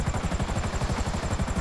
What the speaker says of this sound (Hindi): हेलीकॉप्टर के टायर खोल दो